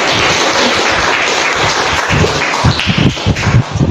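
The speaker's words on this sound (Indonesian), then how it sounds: "Oke, boleh tepuk tangannya untuk Anissa Rita." A university class audience applauds a student presenter, loud and dense clapping that fills the room, continuous for several seconds and close by, with a few sharper claps standing out near the end.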